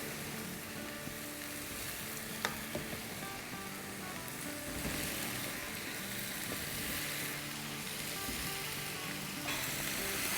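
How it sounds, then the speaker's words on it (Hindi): Potatoes frying with onion and tomato masala in a pan, a continuous close sizzle and crackle with occasional stirring scrapes, steady and even throughout. "अब आलूओं के साथ भूनेंगे ये मसाला और आलू"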